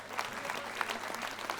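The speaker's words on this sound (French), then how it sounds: "Des applaudissements." Faint applause from a small audience at a live 15th-anniversary broadcast, scattered claps pattering briefly and heard from some distance.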